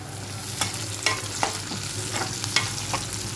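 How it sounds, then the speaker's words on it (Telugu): Onions and green chillies fry in a pan with a constant close sizzle under a low hum, punctuated by several sharp spoon strokes stirring at irregular intervals. "ఇప్పుడు ఆనియన్ ఫ్రై అయిపోయిందండి"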